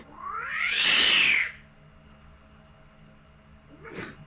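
A cat gives one long, loud, rising and falling meow close by, followed after a pause by a shorter, fainter second meow.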